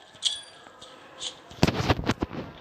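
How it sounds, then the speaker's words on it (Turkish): A bomb thrown in a video game bursts into a rapid cluster of loud, sharp blasts and crackles, preceded by faint, lighter game effects. "Oraya bomba salladım"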